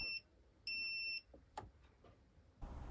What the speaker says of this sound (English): it's going to do a long beep. It's then going to be followed by two short beeps